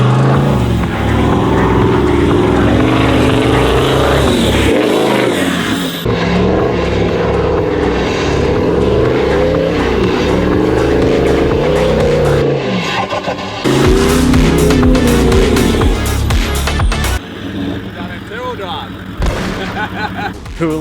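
A Toyota Landcruiser climbs a Simpson Desert sand dune, its engine roaring loud and close throughout, with revs surging and shifting and brief dips as it labours up the slope.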